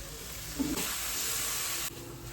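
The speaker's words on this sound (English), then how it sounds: "Just going to add a little water in." Water is poured into a pan of spiced onions cooking for a chicken and potato curry, giving a short hissing, sizzling gush of about a second, close and moderately loud.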